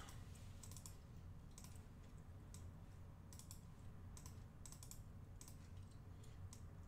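Rapid keystrokes on a computer keyboard, a steady stream of clicks in short bursts over a constant low background hum, close to the microphone with no talking.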